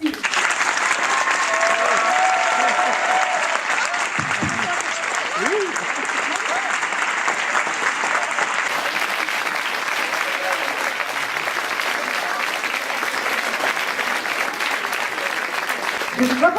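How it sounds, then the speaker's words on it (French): Long, loud audience applause at a Sciences Po contest final as the jury president is welcomed, dense and unbroken for over sixteen seconds, with cheers faintly mixed in. "je vous demande d'accueillir avec un tonnerre d'applaudissements la présidente du jury"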